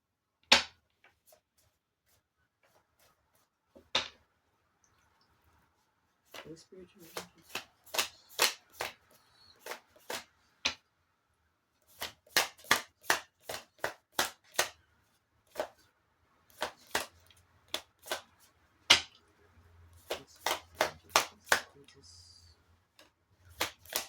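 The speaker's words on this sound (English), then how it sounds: "Let me just shuffle the cards again" Tarot cards being shuffled close up in repeated rapid riffles and soft slaps, several bursts with short pauses between, quiet background.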